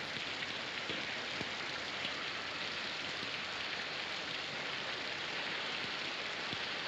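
Rain in a 1961 film, a dense even downpour hiss with occasional heavier drops, steady and moderately loud with no talk over it.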